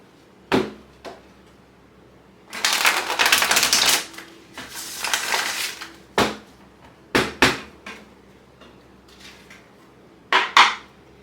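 Tarot cards are shuffled by hand in bursts: sharp single taps and clacks, then a long riffling rustle lasting a few seconds, followed by more scattered snaps and knocks, close and fairly loud, without talk.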